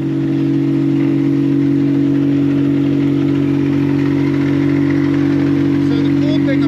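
A vac truck doing hydro excavation runs with a loud, steady mechanical drone and strong low hum, unbroken for several seconds, while someone talks over it.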